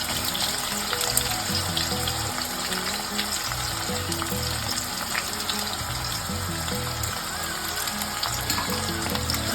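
Chopped onion and garlic fry with mutton for a mutton curry, giving a continuous, even sizzle with a faint watery bubbling underneath, close and moderately quiet, with no voices.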